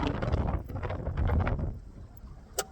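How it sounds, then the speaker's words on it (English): Strong wind over Oneida Lake buffets the microphone on a fishing boat, a loud rumbling roar that surges and then eases, with a brief knock near the end. "the wind has picked up dramatically"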